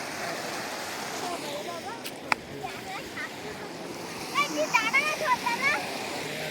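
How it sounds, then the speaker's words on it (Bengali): Floodwater surges where the Damodar and Mundeshwari rivers split, a continuous rushing wash with splashy bursts near the end, heard close and moderately loud with faint voices in the background. "কত জোরে জল উঠছে।"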